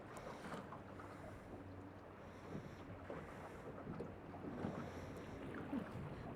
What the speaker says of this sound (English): There is a huge wind,